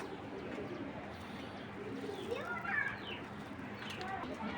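Racing pigeons coo softly in a loft, low rolling calls under faint background chatter and ambient noise.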